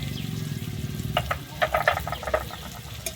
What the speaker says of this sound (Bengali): দিয়ে আমি টমেটোটা খুব ভালোভাবে এখানে কষিয়ে নেবো